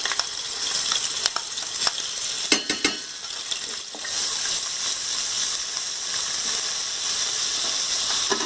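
Steady sizzle of ginger garlic paste frying in oil, with a few sharp crackles and stirring clatters near the start, continuous and fairly loud, no talking.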